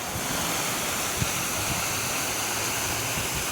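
A sprinkler head sprays water during a compressed-air blowout of a lawn irrigation system, producing a loud, constant rushing hiss with a few faint low thumps and no talking.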